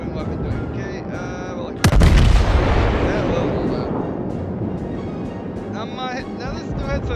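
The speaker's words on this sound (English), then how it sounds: "We're gonna try shooting a ranging volley and then fire the rest" A Wyoming battleship in World of Warships fires a ranging volley, one sudden loud boom that rolls into a long, fading rumble, while someone talks over the game before and after the shot.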